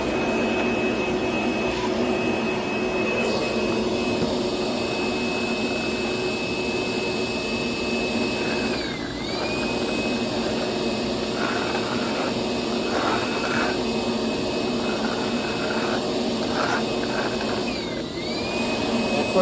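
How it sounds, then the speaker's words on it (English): A DeWalt DCV581H cordless wet-dry vacuum runs steadily for the whole stretch, a loud, even motor whine with a high tone. It dips briefly twice as it picks up debris, and no one speaks. "So now back to the vacuum part of it."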